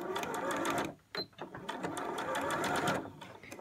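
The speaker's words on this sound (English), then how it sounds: "bit of straight stitch, backwards and then forwards." Sewing machine running a straight stitch on a fabric scrubs bag, a close, fast whirring chatter that stops briefly for a reverse and then starts again.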